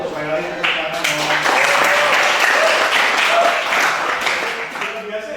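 An audience at a light-vehicle engineering workshop session breaks into a dense round of applause that swells and holds, with a few voices audible at the start and end.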